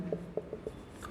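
Writing on a board during a classroom lesson, with a quick series of short, soft scratchy strokes heard close up and quiet, about five distinct marks in a second.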